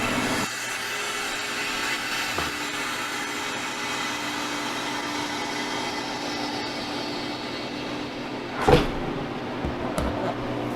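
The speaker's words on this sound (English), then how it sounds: "So open the drain valve." A freeze dryer drain valve is opened, giving a steady close hiss and rushing airflow throughout, marked by a sharp clunk and burst of noise near the end.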